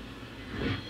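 Model railroad cars are pushed together and coupled on a layout, a faint low rolling rumble that swells briefly near the end, with no talk.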